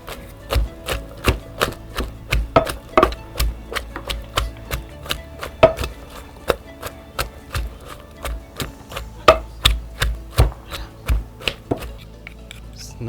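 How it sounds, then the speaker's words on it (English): Pepper being pounded in a mortar for okro soup, a steady run of sharp, close thuds repeating about every third of a second for the whole stretch, loud and alone with no talking. "So here I'm going to pound"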